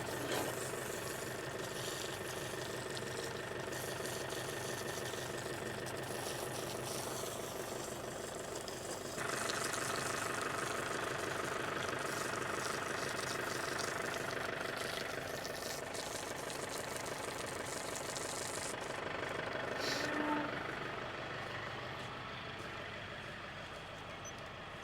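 A farm hose pump runs steadily while a calf house is washed down, giving a continuous, fairly loud mechanical drone with a slight shift in tone partway through and no talking.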